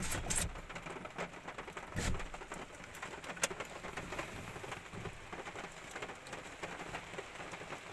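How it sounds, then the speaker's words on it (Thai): Heavy rain drumming on a vehicle with an excavator stuck in mud outside, a steady dense patter with scattered louder drops throughout, no voices. "ตอนนี้ฝนตกหนักเลย"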